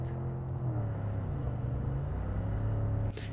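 Car engine in the Cyberpunk 2077 video game, a steady low idle rumble heard close, with a faint rise in pitch and a brief sharp noise near the end.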